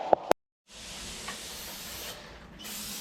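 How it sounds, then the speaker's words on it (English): Brake cleaner sprayed onto the drum brakes of a 2006 GM half-ton pickup, a steady close aerosol hiss running for over two seconds after a couple of short clicks and a brief pause. "now we're going to spray it down with stuff"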